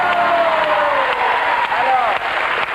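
A studio audience applauds a contestant on a French wheel-of-fortune game show taped in summer 1995, steady broadband clapping filling the clip while a host's voice carries over it.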